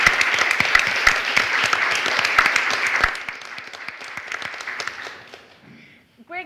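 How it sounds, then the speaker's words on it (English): An audience at a panel talk on academic contests applauds students, dense sustained clapping that fades out over several seconds before a short voice starts at the end. "Let's give all the students a big round of applause."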